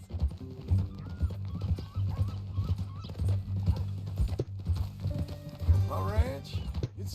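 Horse hooves clip-clop at a steady walking pace in the Red Dead Redemption 2 video game, close and rhythmic, with a neigh near the end and characters talking over it.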